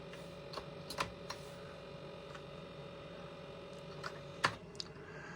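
Sparse, crisp key presses on a vintage computer keyboard drive a car in an old game, a handful of separate clicks over a low steady electrical hum.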